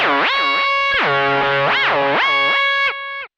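Electric guitar notes through a Line 6 HX Effects unit with bright, repeating delay echoes and a wash of hall reverb, bending and swelling in a rhythmic pattern before ringing out.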